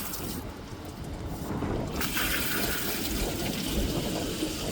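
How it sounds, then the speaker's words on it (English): Garden hose water flushing through the heater matrix of a Mitsubishi L200 K74, a steady broadband rushing gush that thickens after a couple of seconds, close and continuous with no talk. "So this is what we're going to run our hose through and try and flush out any sludge."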